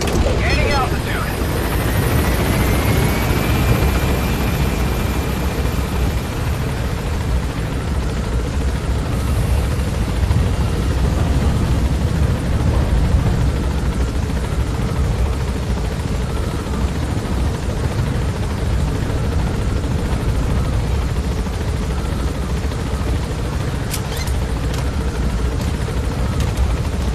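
A helicopter in Metal Gear Solid 5 climbs with a constant loud rotor and engine roar filling the whole stretch, a thin rising whine early on and brief metallic clicks late.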